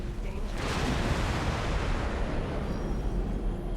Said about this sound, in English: A bit of damage from that explosion